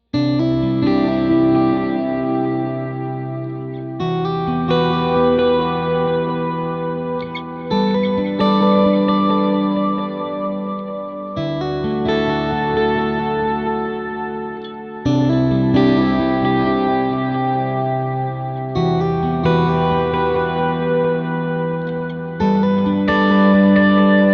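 Electric guitar chords through a Matchless Clubman 35 tone on a Line 6 HX Stomp XL, washed in two layered delays and a thick POG octave-doubled tone, playing a slow repeating progression with long ambient sustain.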